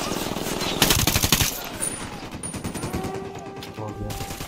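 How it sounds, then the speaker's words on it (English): Rapid automatic gunfire in the Ghost Recon Wildlands video game, loud sustained bursts with sharp repeated reports, with game voices talking underneath. "I'm opening fire."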